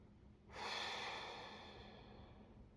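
A single slow, breathy exhale during a breathing exercise, starting abruptly as a soft airy rush, then tapering gently over about two seconds, close and quiet with no talking.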